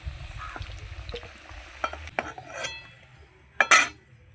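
Potatoes fried until reddish are stirred in a pan, with scattered utensil scrapes and clinks, a soft sizzle, and a louder clatter near the end.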